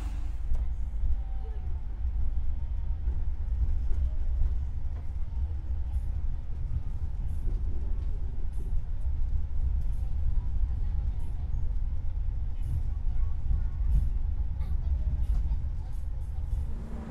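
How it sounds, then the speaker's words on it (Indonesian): The Majapahit economy train departing Malang station, a continuous low rumble heard from inside the carriage with faint clicks and knocks over it, steady and fairly loud, with voices murmuring in the background. "Sesaat lagi, kereta api Majapahit akan diberangkatkan dari stasiun Malang menuju stasiun akhir"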